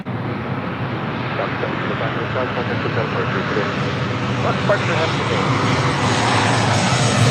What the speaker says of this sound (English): This is Southwest Airlines 1863 coming in from Oakland